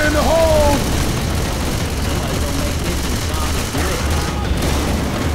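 Gunfire and a grenade blast in the zombie shooter Left 4 Dead 2, a dense burst of rapid shots and booms under shouted voices, steady and loud throughout.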